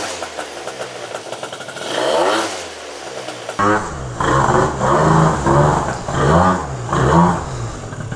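A Derbi GP1 motorcycle fitted with a 94cc Malossi RC One engine is ridden while running rough and breaking up, its two-stroke buzz rising and falling in repeated loud revving surges heard up close.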